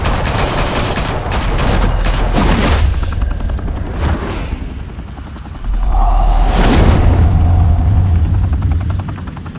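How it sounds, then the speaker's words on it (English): Dense bursts of automatic gunfire crackle in an animated Batman shootout in Gotham, loud and close, rattling in volleys with a helicopter's rotor thumping underneath and a pause in the middle. "Open fire!"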